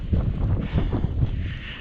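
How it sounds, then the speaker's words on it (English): Gusty wind buffeting the microphone outdoors on a hillside walk, a low rumbling roar that swells and eases in uneven waves. "it's a bit windy, as you can probably hear on the video"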